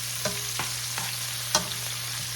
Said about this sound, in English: I'm going to let this cook for a while. Then I'm going to add my garlic. And it's cooking in olive oil.